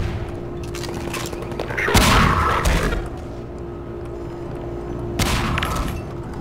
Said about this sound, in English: Unlimited grenades for the win!